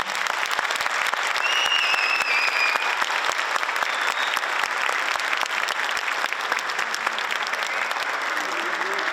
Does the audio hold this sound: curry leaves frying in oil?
no